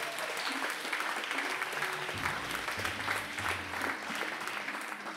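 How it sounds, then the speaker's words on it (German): Sustained applause from a poetry slam audience at the Bayernslam 2016 semifinal in Bayreuth: dense, steady clapping from many hands, loud and continuous throughout. "Applaus bitte für Ingo Winter."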